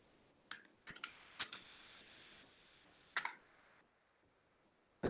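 A password being typed on a computer keyboard: sparse, separate key clicks in small clusters with pauses between them, close and crisp in a quiet room.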